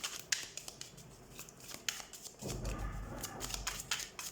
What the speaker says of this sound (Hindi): let's shuffle the cards and let's see